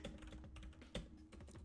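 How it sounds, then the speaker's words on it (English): Typing on a computer keyboard, with quick irregular key clicks, close and quiet, and one sharper keystroke near the middle. "I'm typing another question"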